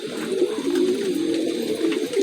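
Two pigeons of the Rampuri breed, a male and a female pair, coo steadily and close by, a low continuous warbling rumble with no talk over it.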